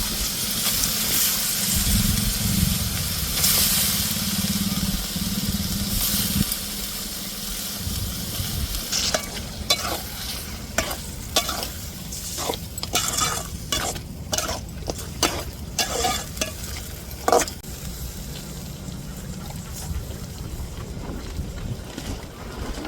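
Chicken frying and being stirred in a pan: a loud sizzle and hiss at first, then easing into repeated scraping, clattering stirs of the spatula against the pan, with no talking.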